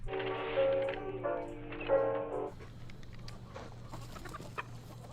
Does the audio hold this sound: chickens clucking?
yes